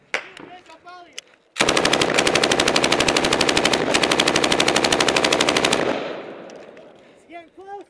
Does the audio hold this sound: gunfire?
yes